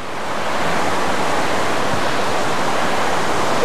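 A huge waterfall roars with a dense, steady rush of falling water. The sound is loud and continuous, heard alone with no voices.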